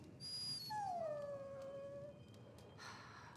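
A dog in the Dragon Age: Origins video game gives a single long, falling whimpering howl, fairly quiet against soft game ambience, with no voices.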